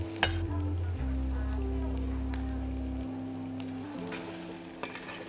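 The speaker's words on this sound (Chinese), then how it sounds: "见到师傅爆香啲料头啊、蘑菇嗰啲咧" A chef at a homemade pasta stall in the Conrad Hong Kong hotel fries aromatics and mushrooms in a pan for a ravioli sauce, giving a steady, moderately loud sizzle over a low, constant kitchen hum with a few faint clinks.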